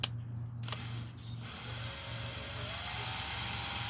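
A small power drill with a tiny bit whines steadily, its pitch rising slightly as it bores through metal on a 2008 Dodge Ram 1500 brake, close and fairly quiet, no talking.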